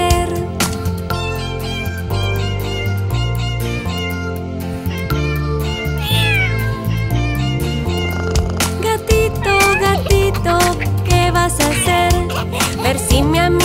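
Cat meows rise over a bright, bouncy children's song, several short mewing calls scattered through the steady music and growing more frequent toward the end.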